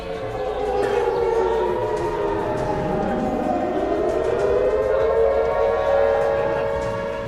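An air raid siren of the kind sounded in wartime when aerial attacks occur, wailing with several overlapping tones that rise and fall. The loud, continuous drone persists for about seven seconds, echoing as if across an open area.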